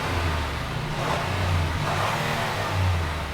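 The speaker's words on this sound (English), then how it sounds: "The V6 engine remains in this gas-only model." A 3.5-liter V6 in a 2017 Acura MDX SH-AWD pulls under steady acceleration, a continuous low engine drone that swells slightly in pitch and stays close and even throughout, with no voices.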